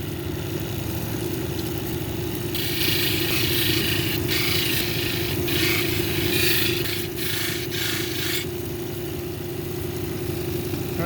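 A cabochon polishing machine with a 600 grit disc works red velvet agate. It hums and whirs steadily throughout, and a brighter grinding scrape rises over the motor from about 2.5 to 8.5 seconds.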